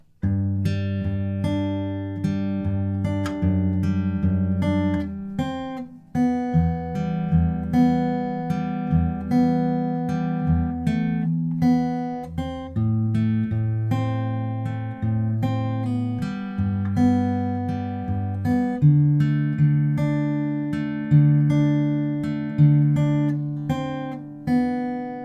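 Fingerpicked acoustic guitar plays the intro of a song, with clear, ringing single notes and bass tones picked in a gentle, flowing pattern, played solo and fairly loud.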